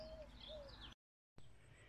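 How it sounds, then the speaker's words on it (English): A bird sings a few thin, clear whistled notes close by over soft outdoor hiss, interrupted by a short dead-silent gap. "listen to this bird"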